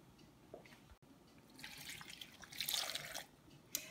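Water pours from a tap into a pot holding eggs, a soft trickle that swells into a brighter, splashing stream before easing off, fairly quiet and close, with no talking.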